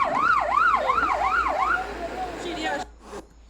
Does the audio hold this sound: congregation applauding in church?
no